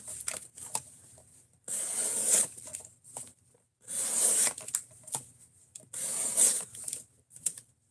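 A VG10-core Damascus kitchen knife slices through food in a series of short, crisp cutting strokes, each a brief rasping swish separated by quiet gaps, close and moderately loud, with no talking.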